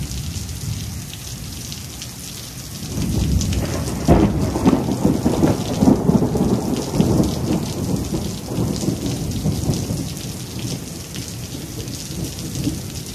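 A thunderstorm with steady rain pattering on surfaces, after a quieter start giving way to deep rolling thunder that swells and rumbles on beneath the downpour.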